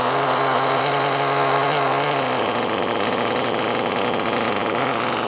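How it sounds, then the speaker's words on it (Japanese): A brand-new, still-stiff nitro engine on a radio-controlled two-wheel-drive drift car idles and runs continuously, a loud, buzzing mid-pitched drone that shifts slightly partway through, with no talking over it. "ちょっとこれエンジンが新品なんでまだ硬いんですよ。"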